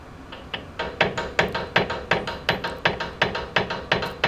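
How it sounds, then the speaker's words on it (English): Light, evenly spaced hammer taps on a Brembo brake caliper of a Megane RS loosen the brake pads, about fifteen sharp metallic knocks in a steady rhythm, close and alone. "Give it some light taps so you can break them loose."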